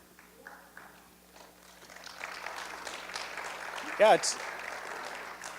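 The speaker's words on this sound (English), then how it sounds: "perfectly acceptable to clap for me when I say things you like" A short spoken remark opens, then an audience at a Republican candidate presentation breaks into applause that builds and holds steady, with a brief whistle-like squeal cutting through partway.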